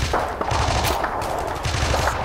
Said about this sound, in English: Lots of incoming rounds.